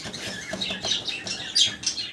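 Pakistani high-flyer pigeons at a pigeon shop give scattered short squawks and chirps in quick, irregular bursts, fairly close, with no talking.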